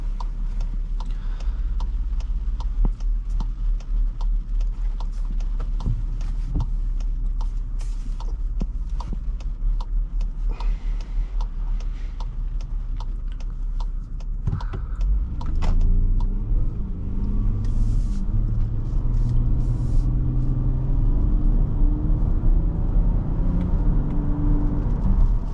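A 2023 VW Atlas SE V6 idles with a steady ticking rumble, then revs up and accelerates from a standstill in the second half, its pitch climbing as it pulls away.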